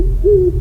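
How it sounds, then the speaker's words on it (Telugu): An owl gives a single short, low hoot at night, clear and fairly loud with no talking, used as a horror story sound effect. "గుడ్లగూబలు అరుస్తున్నాయి."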